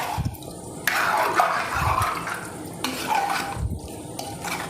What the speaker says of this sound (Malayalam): എന്നിട്ട് നന്നായിട്ടൊന്ന് മിക്സ് ചെയ്യാം